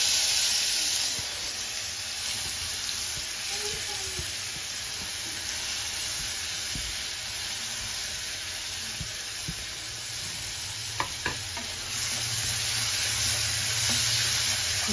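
Chopped onions go into oil that paneer pieces were just fried in, giving a steady close hiss and sizzle with a few faint clinks and stirring knocks partway through, with no talk.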